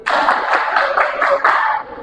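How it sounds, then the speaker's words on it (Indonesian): A classroom of students performs a tepuk konsentrasi concentration routine, about half a dozen loud, rhythmic group claps in quick succession, close and clear. "Tepuk konsentrasi"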